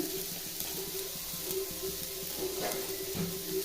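Onions sautéing in a little oil for a thoothuvalai (solanum trilobatum) chutney, a steady low sizzle with soft scraping stir strokes throughout, fairly quiet and close.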